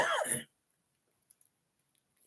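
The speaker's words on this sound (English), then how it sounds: "a bit cough there" A single short, throaty cough-like burst up close, followed by near silence with a few faint clicks.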